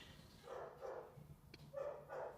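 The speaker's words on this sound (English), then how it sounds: "It's so interesting that Devo's like barking during your reading" Faint, distant indoor dog barking: a handful of muffled woofs in two loose clusters, quiet and somewhat smeared, heard alone over low room noise.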